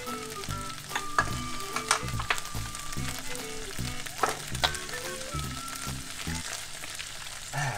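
Rattlesnake meat stir-fried in a wok with seasonings, a loud close sizzle broken by repeated scraping and clanking strokes of a spatula against the metal, rhythmic and busy throughout with no speech.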